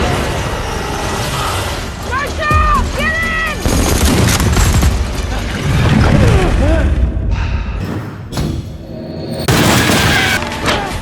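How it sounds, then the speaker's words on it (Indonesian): Soldiers fire guns at a monster in a film scene, with loud rapid gunfire bursts and booms over dramatic music and creature cries. "Mereka pun segera mencoba menyerang monster tersebut dengan senapan mereka."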